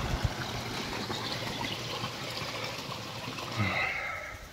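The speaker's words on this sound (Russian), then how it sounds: "Вот по такому акведуку поступает водичка в нижние водопады." Water from an aqueduct spills into lower waterfalls in a park, a steady broadband rush and trickle heard continuously at moderate distance, swelling slightly near the end.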